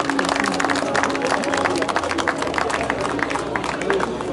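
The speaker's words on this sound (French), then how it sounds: "on les applaudit une dernière fois" Audience clapping steadily at the finish of a classic historic rally for VHC cars, dense continuous applause with crowd noise throughout.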